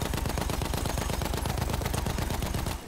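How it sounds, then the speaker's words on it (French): Rapid, sustained machine gun fire from a Battlefield 1 battle, a steady stream of loud, evenly spaced shots rattling close by for the whole stretch before cutting off at the very end. "le bruit de mon fusil mitrailleur"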